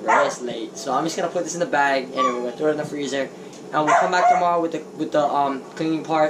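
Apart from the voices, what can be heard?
dogs barking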